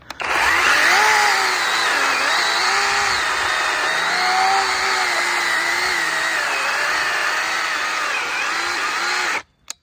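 A GTM CS18/250BL 18-volt cordless chainsaw with a 25 cm bar cutting wood, its loud whining motor rising and dipping under load for about nine seconds before cutting off abruptly.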